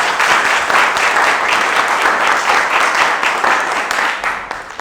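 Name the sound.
audience applause on a quiz show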